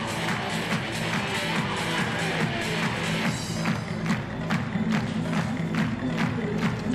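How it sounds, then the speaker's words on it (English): A crowd at an outdoor athletics stadium in Innsbruck claps in steady rhythm for a woman high jumper before her attempt, a regular beat of massed handclaps over a broad murmur, building slightly toward the end. "The crowd are clapping, the crowd are getting behind her."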